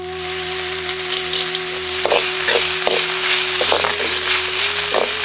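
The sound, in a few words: sautéing shallots in oil with ginger garlic paste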